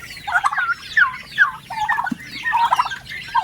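A flock of pet turkeys keeps up a run of gobbling, short chattering bursts repeating at a steady pace, near and clear, with some clucking mixed in and no speech.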